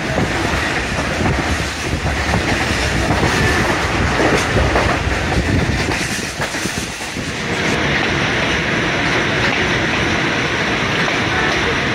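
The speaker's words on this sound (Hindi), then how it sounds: "ट्रेन ने हमारी स्पीड पकड़ ली है और जीटी रोड के साथ साथ दौड़ रही है" Khyber Mail passenger train running at speed through the night alongside a highway, a steady loud roar of wheels and rattling carriages with rhythmic clatter, heard from inside, a brief dip midway before the din resumes.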